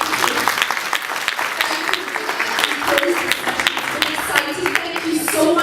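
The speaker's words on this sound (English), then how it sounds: "please a clap for ITC" An audience at a women entrepreneurs' development forum plenary applauds for ITC: a sustained, dense patter of many hands clapping at steady loudness for several seconds, filling the hall without letting up.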